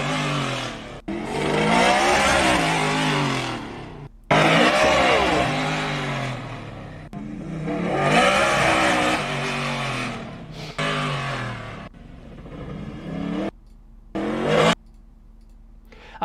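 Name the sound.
custom-built truck engine revving in feature video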